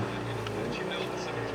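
A 2018 Ford Focus SEL sedan engine runs with a steady, close low hum that rises only slightly, with no clear rev climb.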